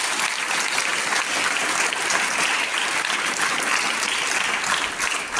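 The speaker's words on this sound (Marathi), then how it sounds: "एकदा अक्षरदालनसाठी सुद्धा आपण जोरदार टाळ्या वाजवूया." An audience in a school hall applauds warmly, a dense, loud, continuous wash of clapping that holds steady for several seconds with no speech over it.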